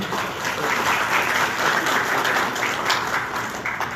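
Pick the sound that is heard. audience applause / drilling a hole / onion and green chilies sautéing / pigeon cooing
audience applause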